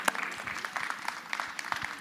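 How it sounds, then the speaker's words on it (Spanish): Applause from an audience at a comics festival in Valdivia, a brief scattered round of clapping heard from a moderate distance, fairly quiet. "quiero pedir, por favor, un fuerte aplauso para Tomás Gaete"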